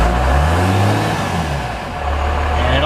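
A 12-valve Cummins diesel in an 80 Series Land Cruiser revs steadily under a pulled hand throttle, a loud, close, rough drone that rises slightly and holds without speech.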